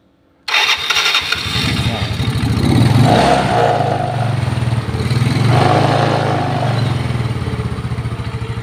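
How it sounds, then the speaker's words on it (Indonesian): A Yamaha Mio Sporty scooter engine, after being hard to start, kicks into life and keeps running with a steady mid-pitched hum, revving up twice before settling, loud and close. "Terus sekarang itu motor ini bisa nyala lur."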